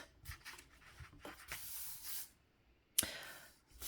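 Graphite pencil strokes scratching across sketchbook paper, a series of soft, close scraping bursts of varying length with a sharper tap near the end, heard alone in a quiet room.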